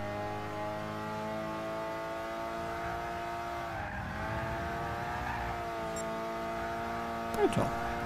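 Racing car from Gran Turismo 6 driven at a steady, sustained engine drone with shifting pitch, a brief tire squeal near the end; game sounds alone with no talking.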